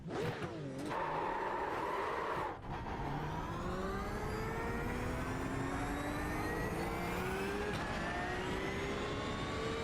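A Porsche GT3 race car in iRacing at Hockenheim runs loud and close, its engine note climbing repeatedly in pitch as it accelerates through the gears, with a brief dip between shifts.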